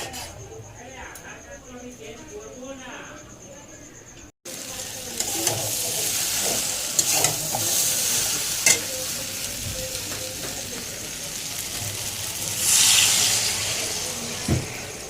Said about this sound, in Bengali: এখানে আলু ভাজা ছিল, এর মধ্যেই সোয়াবিনটা করে নিচ্ছি।